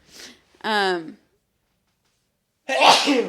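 A loud, close sneeze breaks the silence after a brief spoken word, followed by a pause and another burst of voice.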